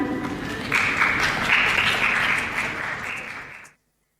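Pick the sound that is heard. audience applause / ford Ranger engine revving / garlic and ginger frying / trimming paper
audience applause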